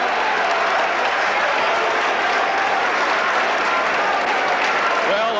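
Boxing crowd in a drill hall cheering and applauding as the bell ends round 2 of a 1978 James Scott vs Eddie Gregory bout; dense, steady, loud applause fills the whole stretch while a commentator talks over it.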